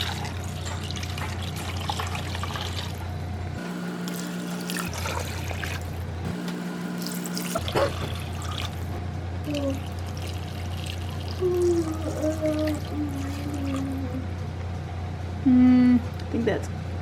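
Tap water runs into an Instant Pot, a steady pouring rush with brief pauses and trickles, heard close among kitchen clatter and some talking.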